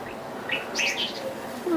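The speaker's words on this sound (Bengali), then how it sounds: "সুন্দর কবুতর" Racing pigeon chicks on a pigeon farm give thin, high chirps, a few short calls close by against a quiet background.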